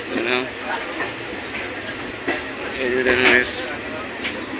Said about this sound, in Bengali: দেখতে পাচ্ছ গাইস ট্রেন যাচ্ছে এখন পুরো